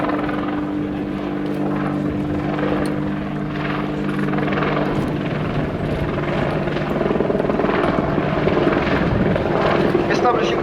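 An Apache attack helicopter hovers at an air show, its heavy rotor and engine roar filling the scene steadily and loudly with a persistent low throb, while a commentator speaks over it.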